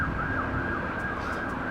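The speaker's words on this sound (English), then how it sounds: "Let me wait for that cop sound to go." Police siren sweeping somewhere in a busy city, a steady wailing tone held fairly far off over a constant wash of traffic and urban noise, with no one speaking.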